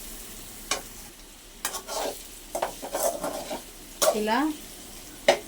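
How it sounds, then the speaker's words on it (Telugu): Bitter gourd masala stirred in a pan over a low flame, with several uneven scraping strokes of the spoon against the pan over a faint cooking hiss and a brief voice near the end. "2-3 నిమిషాలకు ఒకసారి ఇలా కలుపుకుంటూ ఉండాలి"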